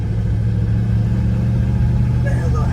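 A 1967 Chevrolet Camaro RS with a four-speed runs at a steady, mellow, near-stock low exhaust drone, continuous and fairly close, with a faint voice briefly toward the end.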